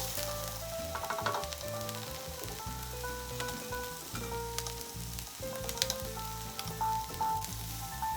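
Ground turkey, broccoli and coleslaw mix sizzle steadily in a hot pan while being stirred, with scraping and clinks of the utensil against the pan over a continuous frying hiss.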